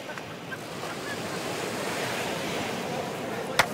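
Ocean waves wash steadily at a surf beach, a broad continuous rush of surf with wind buffeting the microphone and a brief knock near the end.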